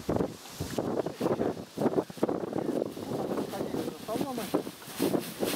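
Outdoor wind gusts buffet the microphone in uneven low rumbling waves while a person talks throughout.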